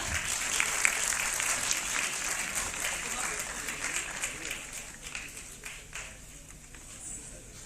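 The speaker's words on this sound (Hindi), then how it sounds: "जोरदार तालियों के साथ सर का स्वागत कीजिए" Audience applause welcoming a chief guest, the NDMC chairman, onto the stage at a cultural festival, sustained crowd clapping with some bright sharp claps near the front, gradually thinning toward the end.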